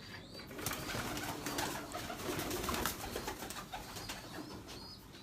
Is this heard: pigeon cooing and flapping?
yes